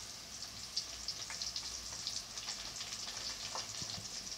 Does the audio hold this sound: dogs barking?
no